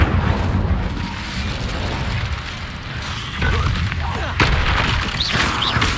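Fire spell cast in Hogwarts Legacy, a loud whooshing roar of flame with booming bursts, dense and continuous over game noise for several seconds.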